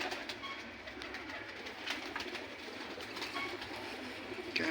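Pigeons at a loft in the old city of Jammu, with faint cooing set in a steady wash of ambient noise and no talk.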